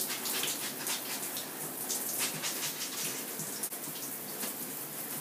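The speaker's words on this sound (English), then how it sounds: "And now I'm gonna squish to condition." Conditioner is squished through wet, long curly hair, giving a steady wet squelching and splashing that runs continuously for several seconds at close range, with no talking.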